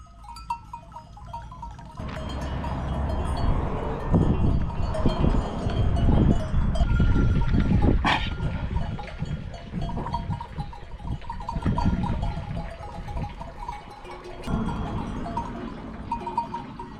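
Goats wearing cowbells move about near the road in rural Turkey, with clanking bells and scattered bleats rising and falling through a steady jumble of nearby livestock noise.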